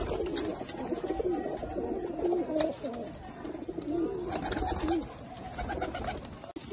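Pigeons kept by a Lahore pigeon fancier coo in soft repeated low warbling phrases, fairly close, with faint chirps and occasional light background noise.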